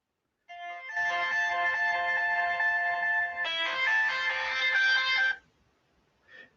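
A phone rings for an incoming call with a bright electronic tone that plays steadily for several seconds, shifts to a second phrase, then stops, leaving a faint brief sound after.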